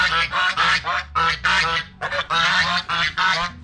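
Domestic ducks or geese at a village house in rural China honk and quack loudly in rapid, overlapping bursts, close by, with no talk.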